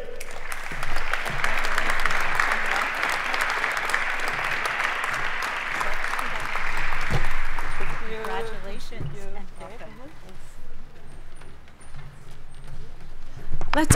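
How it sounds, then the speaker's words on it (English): A crowd at a naturalization ceremony gives a big round of applause for new citizens, with loud sustained clapping for several seconds that thins into scattered claps and voices before swelling again. "Let's all give our new citizens a great big round of applause."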